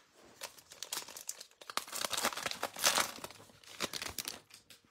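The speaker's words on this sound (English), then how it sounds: "All right, last cello pack." A cellophane wrapper on a Prizm Draft Picks basketball card pack is torn open and crumpled, giving dense, close crinkling and tearing in uneven bursts for several seconds, with no voices.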